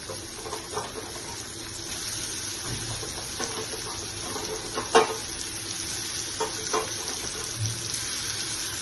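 Pointed gourd mixed with dried red chillies going into a hot pan for potol bhorta, a steady close sizzle with light stirring clatter and a few sharp clinks, no talking.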